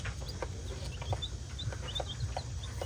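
Young chicks kept in a farm pen with turkeys give soft, repeated clucks and peeps scattered through steady low background rumble, fairly faint and without talk.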